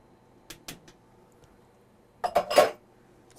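A spoon stirs collard greens in a pot, giving a few light clinks and scrapes, then a brief louder cluster of metallic knocks against the pot, with no talk.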